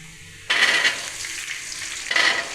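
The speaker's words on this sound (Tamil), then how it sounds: "பூண்டு சேர்த்து வதக்கிக்கலாம் பூண்டு நல்லா வதங்கிடுச்சு இப்போ சின்ன வெங்காயம்" Garlic and small shallots sautéing in a pan for a dried anchovy thokku break into a loud, close sizzle when they hit the oil. The frying crackles steadily, then swells again near the end, with no talking.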